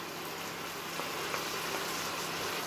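Chicken pieces and onion fry in oil in a pan, giving a steady, close hiss and sizzle that holds evenly throughout with faint crackles.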